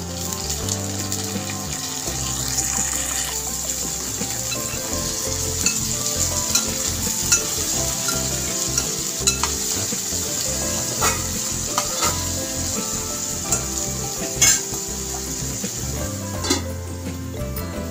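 Brinjal pieces fry with browned onions and green chillies in a pan for a dried-fish curry. A loud, dense, continuous sizzle crackles close up, with occasional stirring clatter.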